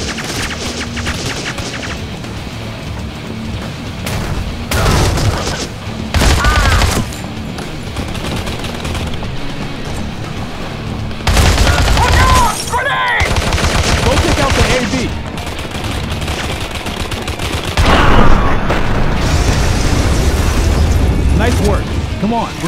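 Heavy gunfire from the video game Modern Combat 3: Fallen Nation, with repeated loud bursts and rattling automatic fire mixed with booms and explosions across a busy battle soundscape, and voices heard intermittently.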